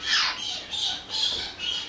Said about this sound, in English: we have a peach front conure here